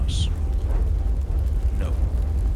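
A fire burning in Hell is Us gives a steady low roaring rumble that holds under the whole stretch, with someone speaking over it.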